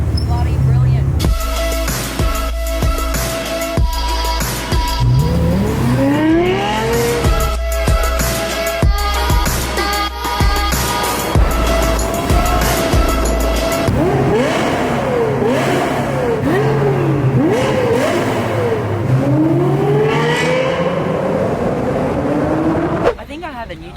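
A Lexus LFA sports car's engine revs hard and drives past at close range, with rising and falling pitch sweeps from repeated gear changes and sustained high-rpm howls, loud throughout and cutting off abruptly at the end.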